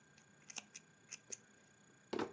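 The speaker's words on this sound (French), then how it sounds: "Ma paire de ciseaux." Scissors snip thread during a knitting project, a few quiet, sharp clicks spaced irregularly, then a louder clattering of the scissors near the end, with no talking.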